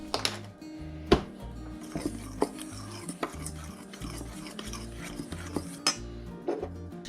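Cornmeal, baking powder and salt are stirred together in a bowl, a steady scraping swirl of spoon against the bowl with repeated clinks and knocks of utensil on the rim, close and alone.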